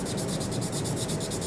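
Sanding a small-scale Italeri T-34/85 plastic model tank, a brief steady hiss of abrasive rubbing at close range, heard alone.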